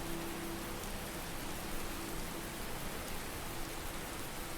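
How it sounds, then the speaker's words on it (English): Steady rain falls in the Skyrim video game, an even, continuous patter and hiss at low volume with a faint hum beneath, no voices. "we're starting to get rain instead of snow"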